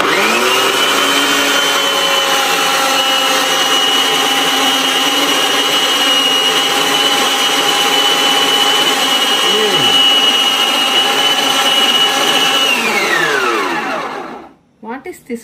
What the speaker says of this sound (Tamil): நம்ம வந்து இப்பதான் ஃபர்ஸ்ட் டைம் மிக்ஸி ஆன் பண்றோம்.